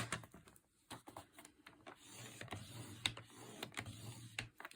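Paper being scored at one inch on a scoring board: quiet scraping, creaking and clicking handling noises, soft and close, with scattered taps and no talk.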